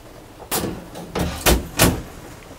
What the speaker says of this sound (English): this door here will slide out, and to keep from taking room, it slides back into the unit